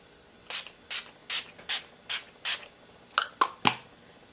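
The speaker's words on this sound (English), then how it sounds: "the final step is the setting spray. So I'm using Wet n Wild's Natural Finish from the Photo Focus line" Wet n Wild Photo Focus Natural Finish setting spray misted from its pump bottle in six evenly spaced hissing bursts, then three quicker, sharper sprays close together, heard alone.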